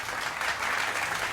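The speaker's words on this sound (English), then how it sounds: "Round of applause for Pika." Short burst of steady applause on a card game livestream, an even wash of clapping with no voices over it.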